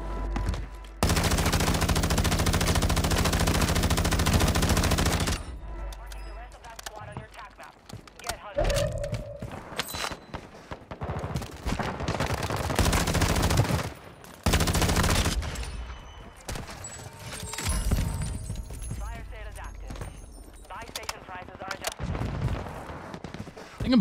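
Gunfire in Call of Duty Warzone 2, loud sustained bursts of automatic fire followed by scattered shots and impacts, with a player talking over parts of it.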